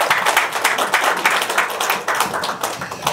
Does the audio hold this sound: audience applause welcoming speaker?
yes